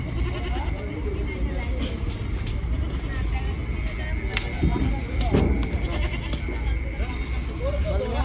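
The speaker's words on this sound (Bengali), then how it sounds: "প্রচুর ছাগল আছে, ফুল ট্রাক, এক ট্রাক, সবই বড় বড় সাইজের" Large goats are unloaded from a full truck at Gabtoli livestock market, bleating through a busy, noisy crowd din, with people talking nearby.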